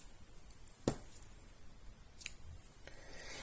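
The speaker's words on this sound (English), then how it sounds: "chain 1, and cut off your yarn" Scissors snip crocheted yarn after finishing a girl's summer dress, heard as one crisp close click, then a second fainter snip over a quiet room hiss.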